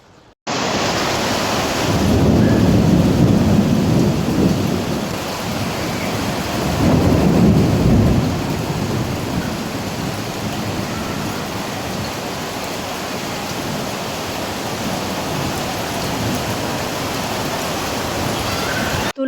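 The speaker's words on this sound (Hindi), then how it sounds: "आपको बाहर का बताती हूँ कि कितनी तेज़ बारिश हो रही है" Heavy rain pours steadily outside an open window during a continuous downpour, a dense loud broadband wash that holds for the whole stretch with swelling gusts early on.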